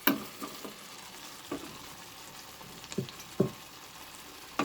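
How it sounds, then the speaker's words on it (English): Cabbage tossed into potatoes frying in a pan for a cabbage potato curry, a low steady sizzle broken by several brief scraping stirs of a spoon. "Then I'm going to add the cabbages."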